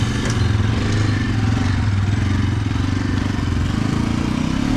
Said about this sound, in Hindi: अपने पीछे पीछे देखो भाई बाइक निकल रही है